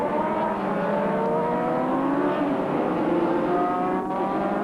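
Racing motorcycles from a 1985 superbike race circle a track on a warm-up lap, a dense, continuous drone of several engines with rising and falling whine, steady and fairly loud, with no voices.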